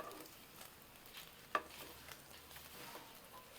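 Chopped onion fries in oil in a pan for a paneer curry, giving a faint, continuous low sizzle with a single sharper stirring scrape partway through and no voices.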